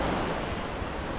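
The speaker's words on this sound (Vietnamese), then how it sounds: "Biển rất đẹp và sạch luôn nha mọi người" Sea waves washing on a clean beach, a steady broad rush of surf mixed with wind buffeting the microphone, close and continuous with no voices.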